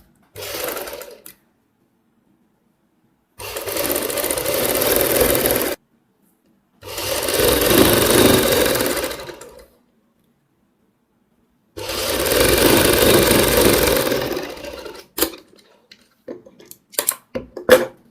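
A sewing machine stitches a double piping neck on a Kullu patti design in four loud, sustained runs separated by silent pauses, followed by a few brief handling clicks and rustles of fabric.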